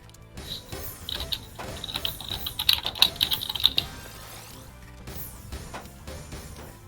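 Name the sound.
typing on a computer keyboard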